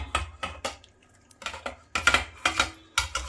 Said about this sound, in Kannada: ಸೊ ಇವಾಗ ನಾವು ಇದರಲ್ಲಿ ಮಿಕ್ಸ್ ಮಾಡ್ಕೊಂಬಿಡೋಣ